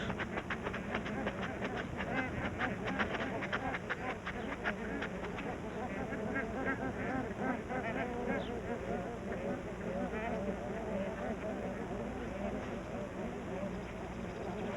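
Bar-headed geese call at a high-altitude nesting site in Ladakh, with repeated honking notes clustered in the first few seconds before fading into a softer background, while a narrator speaks throughout.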